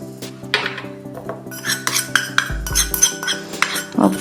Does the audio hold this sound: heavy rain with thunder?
no